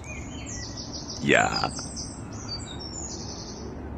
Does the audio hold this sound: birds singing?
yes